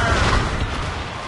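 Ship cannon fire in the naval game Assassin's Creed Rogue: one loud, deep, rumbling blast that sounds close and decays quickly into a low roar.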